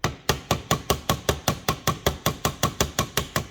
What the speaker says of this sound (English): Only using very light taps with a hammer